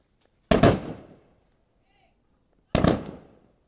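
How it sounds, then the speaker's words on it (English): A three-rifle volley rings out at a police funeral for a fallen Corpus Christi officer, two sharp, booming reports about two seconds apart, each with a short echoing tail, outdoors and otherwise quiet. "The 3-rifle volley in remembrance of fallen Corpus Christi police officer Kyle Hicks."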